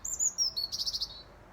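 Birds sing outside a house: a clear, near series of high chirps and tweets, ending in a quick trilled run that fades out, with only a faint hum behind it.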